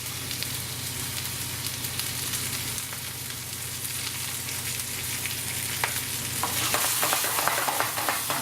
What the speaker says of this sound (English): I'm going to sear this side